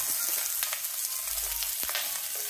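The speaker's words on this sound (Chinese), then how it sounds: "我哋煎到佢两边有色" Prawns pan-frying in a wok over medium-high heat for black pepper prawns, a close, steady hiss of oil broken by a few faint clicks and stirring scrapes.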